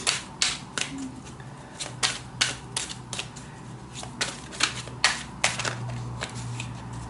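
Tarot cards are shuffled and picked in a string of crisp, snappy riffles and flicks, close and fairly quiet, arriving in an irregular rhythm with no voice over them.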